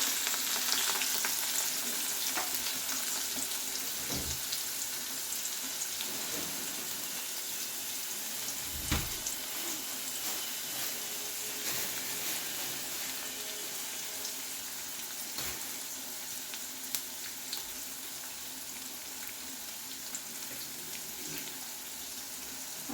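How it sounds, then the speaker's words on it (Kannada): Ginger garlic paste and onions fry for tomato rice in a home kitchen, giving a continuous close sizzle with occasional stirring knocks and scrapes against the pan and no speech. "ಈರುಳ್ಳಿನೂ ಇದರಲ್ಲೇ ಹಾಕಿಬಿಟ್ರೆ ಎಲ್ಲ ಫ್ರೈ ಆಗುತ್ತದು"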